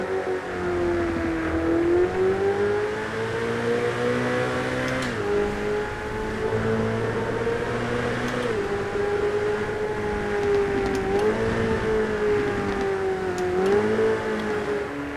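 Ferrari F8 Tributo engine in the video game GTA 5, driven with a steering wheel, a continuous loud engine drone whose pitch rises and falls through gear shifts, alone with no talk.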